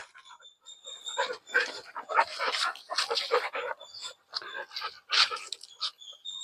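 A pet dog whines and yips in short, high bursts close by, mixed with a person's talking.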